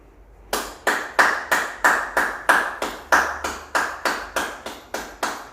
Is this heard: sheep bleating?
no